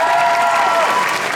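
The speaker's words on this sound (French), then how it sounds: "On peut l'applaudir." Loud, dense audience applause fills a convention stage show, a continuous roar of many hands clapping, with some crowd noise mixed in.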